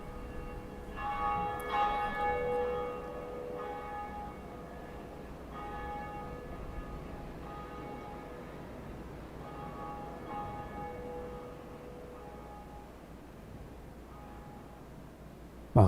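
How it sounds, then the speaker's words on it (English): The Bell of Awakening tolls in Dark Souls, a deep resonant chime ringing out and sustaining with a long, slowly fading hum over a low ambient wash, no voices. "we're going to go ring our first bell. The first bell of awakening"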